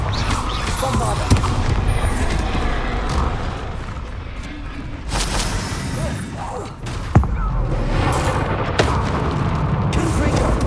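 Bombarda explosion spells in Hogwarts Legacy: heavy, booming blasts with sharp cracks, set in a thick, constant wash of game combat noise.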